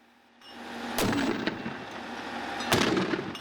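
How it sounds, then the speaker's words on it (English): Military mortar team firing rounds at a range: two sharp, loud launch blasts about two seconds apart, each with a booming echo and a long rumbling tail over steady background noise, with no talking. "the mortar team begin firing."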